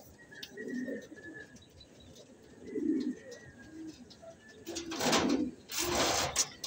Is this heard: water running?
no